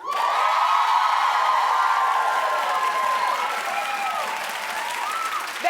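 A studio audience at a talk show claps and cheers, sustained loud applause with whoops and shouts over it.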